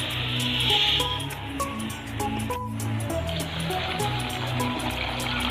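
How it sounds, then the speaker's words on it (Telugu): Water poured over one cup of rice to wash and soak it for jackfruit biryani: a continuous, close splashing trickle heard throughout, set against background music. "రెండు సార్లు కడిగేసి కొంచెం నీళ్ళు పోసి నానబెట్టుకోవాలి."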